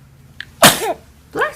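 A baby sneezes sharply and close up, a quick breathy burst followed by a second sneeze about a second later, each with a small squeaky tail.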